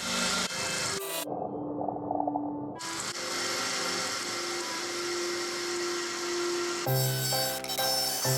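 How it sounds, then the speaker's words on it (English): A wire brush spun by a drill scrubs rust off a car bonnet, a loud, harsh whirring grind that runs in long sustained passes, breaks off briefly near the start, and shifts pitch as the pressure changes. "I'll hit all the other rust areas with a wire brush and a drill"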